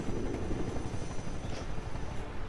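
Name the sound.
helicopter in video game Rise of the Reds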